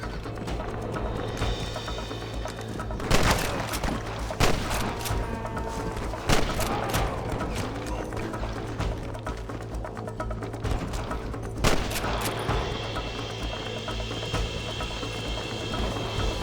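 Gunfight in Red Dead Redemption, with several sharp shots and booms spread across the stretch over a steady game background hum.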